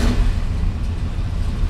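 An engine in a car over sixty years old idling, a brief, steady, close rumble with a slightly uneven low throb and no voices.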